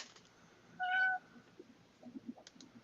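A house cat gives one clear, drawn-out meow close by, followed by faint rustling and small clicks in a quiet room.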